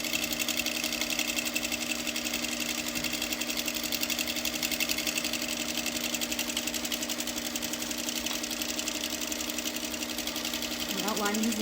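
Sewing machine stitching steadily while machine quilting around hand-appliquéd fabric shapes, a continuous close mechanical whir with a rapid needle rhythm that holds unbroken throughout.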